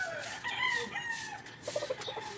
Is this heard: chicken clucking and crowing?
yes